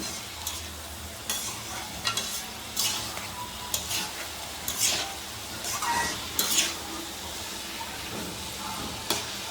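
Dry fish curry being stirred in a pan, with repeated scraping strokes over a steady sizzle, fairly close and without talk.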